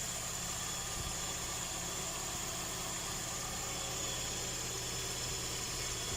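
A Toyota Corolla AE101 engine idles steadily, its even mechanical hum and vibration continuing unbroken from start to finish with no voices.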